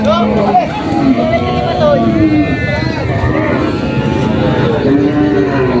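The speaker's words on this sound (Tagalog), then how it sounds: "Napakaraming kalabaw na naman dumating galing Bicol." Water buffalo low and moo repeatedly amid a noisy crowd at a livestock market in Lucena, Quezon, with people talking over the animal calls throughout.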